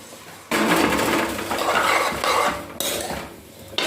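Spiced potatoes being stirred into masala in a pot for aloo gobi, a loud, continuous scraping and clattering of a spoon against metal with brief pauses and bursts, no talking.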